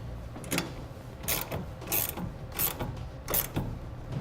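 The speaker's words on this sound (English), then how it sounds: "now we'll need to grab a 9/16 wrench. You'll need to provide your own. And we're going to tighten that down." A 9/16 wrench ratchets as it tightens a tonneau cover clamp onto the bed rail of a 2014 Ford F-150, with short repeated clicking strokes, close and fairly quiet.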